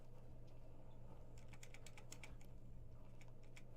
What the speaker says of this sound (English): that's cat on the keyboard